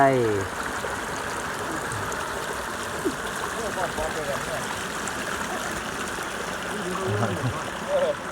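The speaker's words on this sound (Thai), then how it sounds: "น้ำตกแห่งใหม่ครับ" Continuous rushing and splashing of a clear-water waterfall, heard up close and steady, with someone talking over it throughout.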